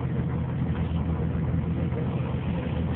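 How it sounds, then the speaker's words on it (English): A Ford Mustang convertible with the pony package runs close by, its engine giving a steady, low, muffled drone with no clear rise or fall in pitch. "car revs real nice"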